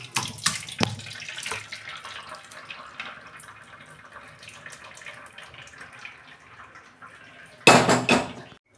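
Boiled taro leaves and their cooking water tip into a colander in a home kitchen, a loud splashing rush of draining liquid that bursts in near the end after quieter clatter, with no talk.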